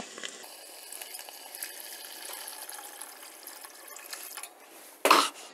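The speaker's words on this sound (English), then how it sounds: "Now what we'll do is we'll add water to it." Water is poured into a pan of softened, juicy tomatoes for cream of tomato soup, giving a steady hissing sizzle that ends in a sudden louder splash-like burst.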